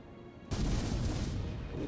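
A ship's cannon fires in the naval game Port Royale 4, with a sudden deep boom followed by a sustained rumbling roar that fades only slightly over under two seconds.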